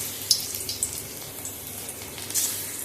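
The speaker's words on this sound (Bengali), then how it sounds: "এবার আমি এগুলো কড়ার তেলে ছেড়ে দেব।" Okra pieces dropped into hot oil in a wok, giving a soft, steady sizzle with a few small splashy pops near the start and end, quiet and without voices.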